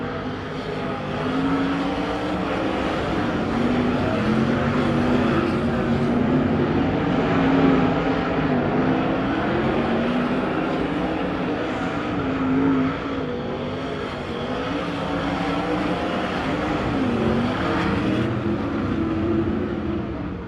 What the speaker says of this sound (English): And that is your cars on the track for Hot Lap session number 1.